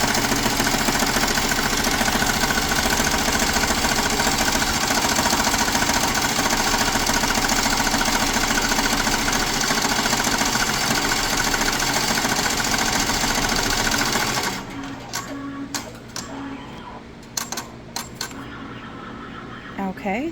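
An embroidery machine stitches an applique with a steady loud mechanical whir and rapid needle clatter, then goes quieter with intermittent clicks and taps near the end.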